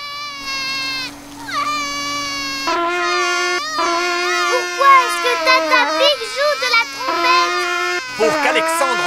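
A cartoon baby cries in a Peppa Pig episode with repeated wailing, high-pitched sobs, loud and close, mixed with other character voices.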